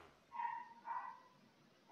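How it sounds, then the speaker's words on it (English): A dog barks indoors, two short sharp barks close by with a third starting at the end, against a quiet background. "What's my dog barking at?"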